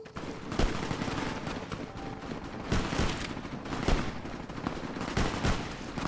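Rapid bursts of automatic and single-shot gunfire from mercenaries in a video game crackle on and off throughout, loud and dense, with no talk over them.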